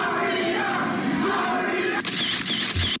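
Concert crowd roaring and cheering in a loud, sustained wall of massed voices, with a few sharp bursts near the end.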